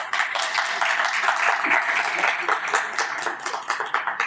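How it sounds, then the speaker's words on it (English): A crowd applauds steadily, a dense patter of many hands clapping throughout, moderately loud and continuous. "Yes, let's clap."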